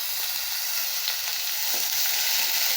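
Beans and carrots hit a hot pan for a stir-fried poriyal, giving a loud, constant sizzle with faint stirring scrapes and no voices.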